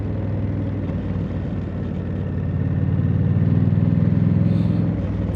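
A Triumph Scrambler 1200 X motorcycle engine hums steadily while ridden on the road, a low droning rumble that swells slightly louder midway with wind noise and no talking.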